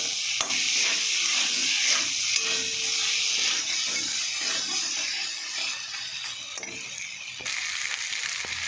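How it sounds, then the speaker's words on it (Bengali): Paneer fries with spices in a pan, a dense continuous hiss and sizzle with scraping, ratchet-like stirring strokes running throughout, close and fairly loud, without speech. "পনিরটা দিয়ে একটু কষিয়ে নেবো।"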